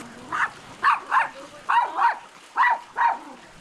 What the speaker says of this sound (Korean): 마당에선 강아지들이 신나게 뛰어놉니다.